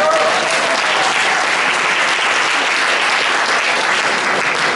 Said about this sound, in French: Quand je parle d'unité, ils applaudissent.